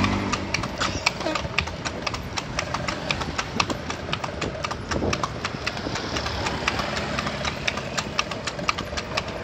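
Steady clip-clop of horse hooves from a horse pulling a bendi cart around a market in Padang, a brisk even rhythm running throughout under road noise and some talk.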